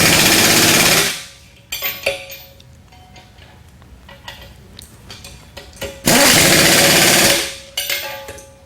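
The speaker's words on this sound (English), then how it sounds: "take a socket, put it on the bottom of the holes, and tighten them up with an impact gun" An impact gun tightens bolts on the spindle of a CS-1 sifter in two loud, close bursts of rattling hammering about a second long each, separated by quieter clinks and handling of the socket and metal parts.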